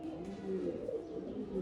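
Top-quality pigeon from a prized pair cooing softly, a low, gentle repeated coo that is faint and close, with no voices.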